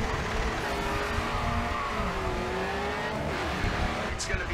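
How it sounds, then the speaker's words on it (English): A Ford Mustang race car engine in the Grid 2 racing game, a steady rising and falling drone that sustains throughout over a bed of other racing cars and commentary-like chatter. "Look at that Mustang."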